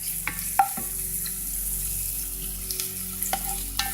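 Dovesfoot geraniums and onions fry in hot olive oil in a pan, a steady close sizzle broken by scattered crackles and pops and the occasional scrape of stirring.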